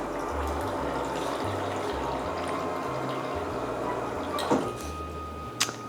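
Half a cup of water poured from a fridge supply into a mixing container for homemade mountain-bike energy gels, a steady close liquid trickle with a couple of brief clinks near the end.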